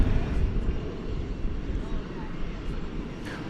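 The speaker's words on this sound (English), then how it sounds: "Coming in from afar there, it's American Flight 681 arriving from Cancun." An American Airlines Airbus A321 arriving from Cancun at Dallas Fort Worth Airport, its engine noise a broad, steady distant rumble that holds evenly throughout, with a voice talking faintly at times.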